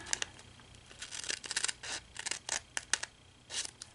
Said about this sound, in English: we're going to take our paper snips and we're going to cut on this score up to our 1 1/4 inch score line